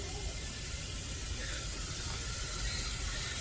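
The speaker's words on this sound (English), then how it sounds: "Hear that nice sizzle?" Butter sizzles in a hot pan with a steady, faint hiss and crackle, continuous and even throughout, with no voices.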